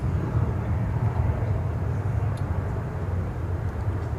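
Airplanes roar at DFW Airport as a steady, heavy low rumble that fills the whole stretch, holding at an even loudness without clear breaks.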